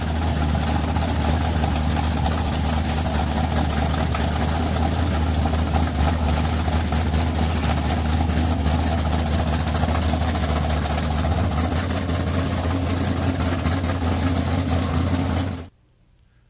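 A 1974 Dodge Charger engine idling, a loud, steady low rumble close up that runs for about fifteen seconds and then shuts off abruptly.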